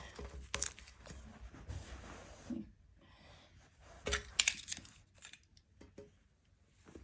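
Adhesive tape rips off the roll in a few short, sharp tearing bursts, with quiet handling and rustling in between while a Cookie Monster toy is taped down, close and otherwise quiet.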